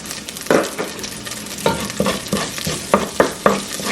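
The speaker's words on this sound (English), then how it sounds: "I put 1 tablespoon of olive oil here, right here, and like, you know, stir this around. It's hot. And now I'm gonna put this cumin seed here." Cumin seeds sizzle in hot olive oil in a pot while a spoon stirs them, giving a constant close frying hiss broken by several scraping stirring strokes.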